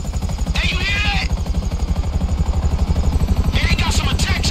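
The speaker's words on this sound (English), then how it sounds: "they got some attack choppers on me" Rapid thumping attack helicopter rotor chop in GTA V dominates throughout, loud and close, with bursts of higher-pitched noise like gunfire or effects layered on top.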